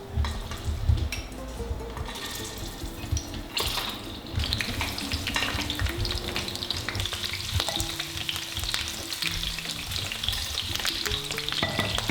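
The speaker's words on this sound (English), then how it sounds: "So here we are frying slightly frying the cocoa peppers," Steady, crackling sizzle of peppers frying in a hot pan, with occasional stirring and clinks of cookware, continuous throughout.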